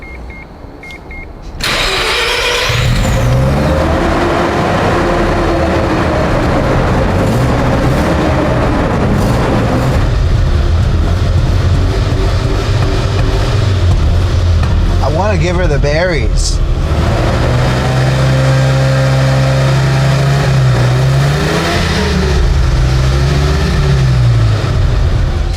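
A Mazda RX-7 FC with a low-mileage 13B rotary engine starts up and revs repeatedly, climbing and falling in pitch close to the microphone, while people talk over it.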